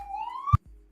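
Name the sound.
police or ambulance siren passing outside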